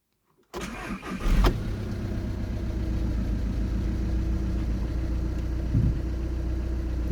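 A Volkswagen Passat engine cranks briefly and catches, then settles into a steady, loud idle up close, with a small shift in the engine note near the end.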